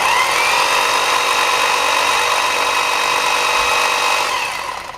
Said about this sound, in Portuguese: agora eu vou ligar novamente a furadeira